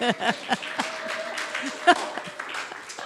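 A church congregation breaks into scattered clapping and light laughter during announcements, uneven claps close by with murmuring voices and chuckles mixed in.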